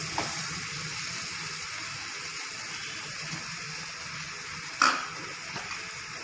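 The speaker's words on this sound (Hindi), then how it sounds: "कश्मीरी लाल मिर्च, पाव भाजी मसाला और जो हमारी उबली हुई सब्जियां थी वो मैश कर दूंगी।" Boiled vegetables for pav bhaji being mashed in a hot pan with Kashmiri red chilli and pav bhaji masala, giving a steady soft sizzle with wet squelching and a few sharp scrapes and knocks near the end.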